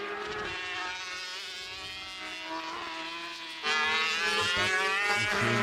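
A racing motorcycle at a classic bike festival race sweeps past on track, its high engine whine sustained and tonal, swelling louder partway through as it nears.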